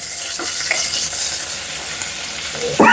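Dried red chillies hit hot oil in a pan and fry with a loud, close, continuous sizzle and crackle, with a sharper burst near the end and no talking.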